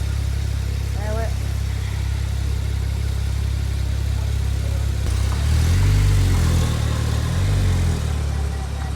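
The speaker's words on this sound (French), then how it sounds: "Ce démarrage à froid, les gars." A Turbo S sports car engine cold-starting at a supercar gathering, a steady low rumble that swells into a deeper, louder roar midway, with a crowd murmuring in the background.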